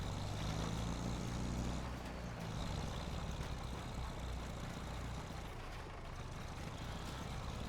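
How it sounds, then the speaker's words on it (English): A worn old farm tractor in Farming Simulator 25 growls with a steady, loud low engine drone that strains continuously, with a slight dip in pitch partway through and no talking. "Come on, you old tractor."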